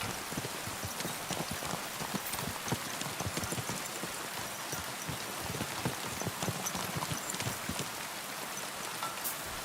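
A horse canters in the video game Kingdom Come: Deliverance II, its hooves clip-clopping in a fast, steady rhythm over a constant hissing wash, close and moderately loud throughout.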